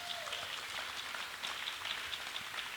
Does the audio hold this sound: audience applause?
yes